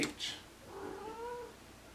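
A cat gives a short meow followed by a longer, drawn-out wavering cry, heard close but fairly quietly in an indoor room, with no one talking.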